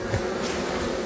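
Italian honey bees hum at the hive, a dense steady buzz with no break, close and constant, with no voices.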